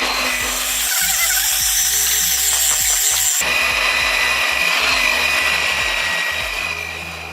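Cake batter of eggs and flour is mixed for a pressure-cooker cake, giving a loud, continuous, close motor-like whir that hardly changes for the whole seven seconds, with no talking.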